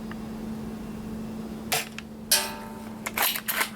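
Ares Mauser Kar98k airsoft rifle firing at a target, a few sharp, snappy cracks with mechanical clacks of the bolt in between, close and spaced apart against a faint steady hum.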